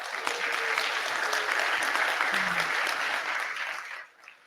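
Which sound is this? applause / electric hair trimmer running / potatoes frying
applause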